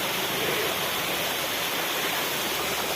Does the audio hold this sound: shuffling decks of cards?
no